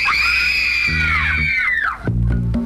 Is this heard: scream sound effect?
yes